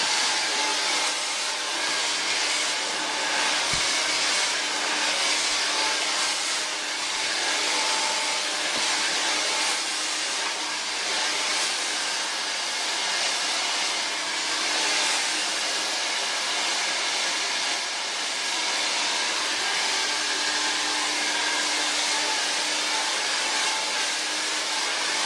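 A hair dryer blows steadily on a child's wet hair during a haircut, a loud continuous airy roar running unbroken throughout with no talking.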